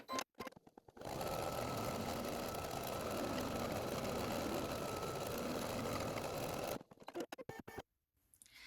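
An embroidery machine runs a continuous stretch of tack-down stitches over batting, a fast, even mechanical whir lasting several seconds, framed by a few short starts and stops at either end.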